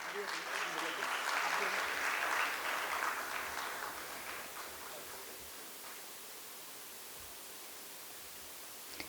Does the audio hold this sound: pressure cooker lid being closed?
no